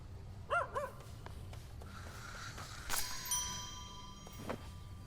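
Puppies in the video game Hades 2 give a few short, high barks and yips early on, followed by soft chimes and a faint ding over quiet ambient game sound.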